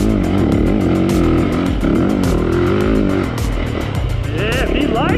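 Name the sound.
dirt bike engine revving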